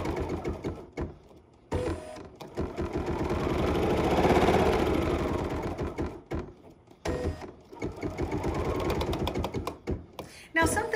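BERNINA embroidery machine running CutWork on placemats, its steady mechanical whirring and rapid stitching swelling and pausing in bursts, close and moderately loud.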